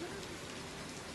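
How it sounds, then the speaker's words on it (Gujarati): Heavy monsoon rain pours down steadily over the main town of Danta in Banaskantha, a dense, constant wash of close, loud rainfall on surfaces with no voices heard. "દાંતાના મુખ્ય મથક પર ધોધમાર વરસાદ વરસ્યો"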